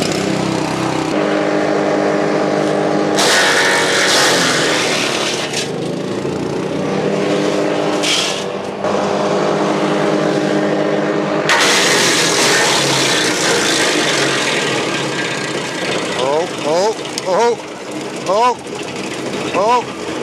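Hansa wood chipper engine running and chipping wood, a loud continuous engine drone that surges and labours as material feeds in, with bursts of louder grinding and brief dips, under occasional voices.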